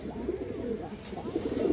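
A Bagha female pigeon gives soft, low, throaty coos close by, rising in short rolling phrases over a quiet background, with no voices.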